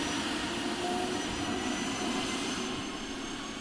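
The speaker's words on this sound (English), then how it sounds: "That's a prop. They're not supposed to take off." A propeller aircraft taxiing at an airfield, its steady engine drone carrying throughout at moderate distance, a broad continuous rumble with no voices.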